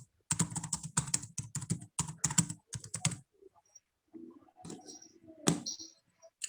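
Computer keyboard typing during an online CV-review class session, a fast run of clicking keystrokes for about three seconds, then sparser scattered clicks and taps, fairly close and alone without talk.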